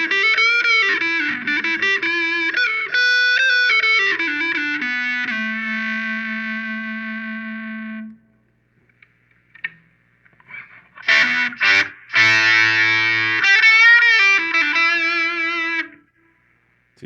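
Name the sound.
electric guitar with fuzz, tone rolled back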